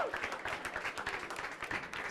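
Audience applause for a science slam speaker, a steady dense patter of many hands clapping throughout, fairly loud and continuous with no pause.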